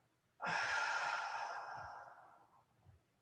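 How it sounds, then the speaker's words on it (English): A single huge exhaled breath at the close of a yoga practice, starting abruptly loud and near, then trailing off slowly over about two seconds into quiet. "Take a deep breath in and a huge breath out."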